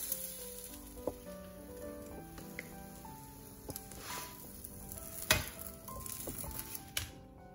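Grated zucchini and egg pancakes fry in a hot pan with a soft, steady sizzle and crackle, punctuated by a few light taps and scrapes as they are turned.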